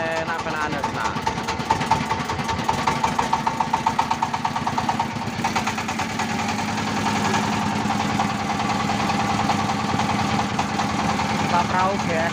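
A tourist boat engine idles on the Gondang reservoir in Lamongan with a rapid, steady chugging that pulses more sharply early on, then settles into a continuous rumble, with people talking nearby.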